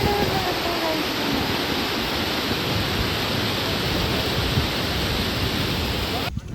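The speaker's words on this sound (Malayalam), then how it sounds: "ഇവിടെ ഒരു ചെറിയ വെള്ളച്ചാട്ടമുണ്ട്." A small waterfall in the hills of Wayanad roars as a steady, dense rush of falling water, loud and close, holding constant before cutting off abruptly at the end.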